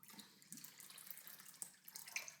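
Water pours out of a container into a sink, a faint trickling splash with a few small drips as a nearly empty vessel is tipped.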